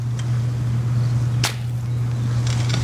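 The caramelized sugar shell of a crème brûlée is cracked once, a single sharp, close snap heard over a steady low hum, followed by faint crackles.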